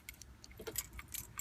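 A car key cylinder is pushed back into an ignition switch, keys jangling in short, faint metallic clinks and rattles over about a second and a half.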